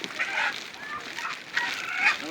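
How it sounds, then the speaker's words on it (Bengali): Captured wild jungle fowl cluck and squawk in short, agitated bursts close by, with faint outdoor jungle background. "জঙ্গল থেকে মুরগি ধরে নিয়ে আসছি আমরা"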